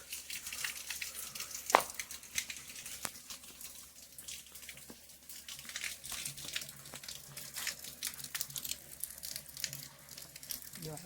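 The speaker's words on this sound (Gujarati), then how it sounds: "વરસાદ ચાલુ થઈ ગયો છે છાંટા ચાલુ થઈ ગયા છે" Light drizzle starts outdoors, making faint scattered taps and soft patters against a quiet low background hum, with irregular small drops spread across the span.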